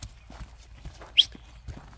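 A horse walking, its hooves clip-clopping in a slow, steady rhythm of soft, fairly close thuds with a brief sharper knock midway.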